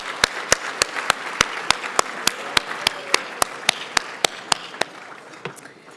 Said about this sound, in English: let's just give one more round of applause to those Toronto Blue Jays.